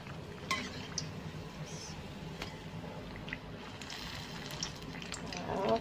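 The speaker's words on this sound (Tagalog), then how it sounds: "Mabilis kasing naluto ang ating ukoy kasi mainit ang ating mantika." Vegetable okoy fritters of squash, carrots and parsley sizzle in hot oil, a steady broad crackle with a few faint clinks of utensils over it.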